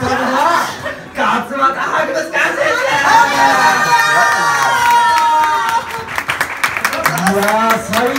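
An audience at a Beyblade tournament breaks into clapping and excited chatter after a battle ends, laughter and cheers rising first, then a burst of brisk applause toward the end over lively talk.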